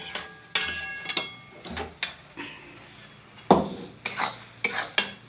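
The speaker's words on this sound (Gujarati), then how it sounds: "નીચે ઉતાર્યા પછી આપણે આને હલાવ્યા રાખવાનું ઘડીક." A spoon scrapes and knocks against a hot kadai while adadiya mixture is stirred, giving irregular sharp clinks and scrapes with soft gaps between them.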